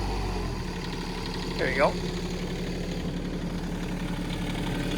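A tracked excavator's diesel engine idles low and steady after the throttle is brought down, a constant rumble throughout with a person speaking briefly over it.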